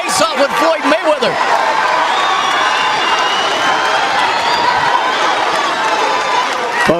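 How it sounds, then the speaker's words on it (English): Boxing weigh-in crowd roaring and cheering as two fighters face off, a loud sustained wash of shouting voices with a commentator talking over the start. "listen to this crowd as these two faced off."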